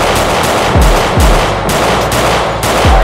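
Rapid, loud gunfire from a Roblox Hood RP game gun, with repeated sharp shots in quick bursts and a few thumping low booms throughout, nearly continuous and close.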